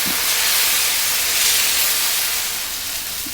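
Jowar masala dosa batter spread on a hot pan gives off a loud, constant sizzling hiss that swells slightly mid-way and then eases off a little.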